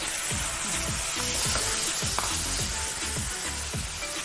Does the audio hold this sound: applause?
no